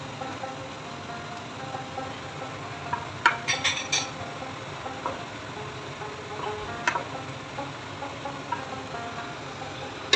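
Sausage and capsicum sauce for lasagna being stirred in a pan, with scattered metallic scrapes and clinks of a utensil against the pan over a steady background hum, busier around the middle.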